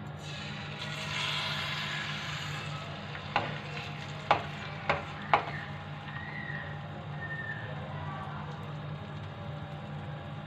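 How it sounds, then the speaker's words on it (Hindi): An egg fries in two tablespoons of cooking oil in a pan, giving a steady soft sizzle with a few sharp clicks of a spoon stirring partway through, and no talk over it. "अब हम एग फ्राई कर लेते हैं।"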